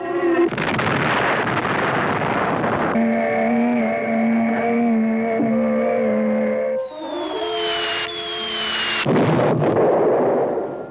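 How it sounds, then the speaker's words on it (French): A star explodes in a 1959 animated film, heard as a roaring blast of noise followed by droning tones and descending whistling sweeps, then another loud burst of rumbling noise; the effects are loud and cinematic, with no speech. "d'énormes étoiles explosent comme une bombe atomique"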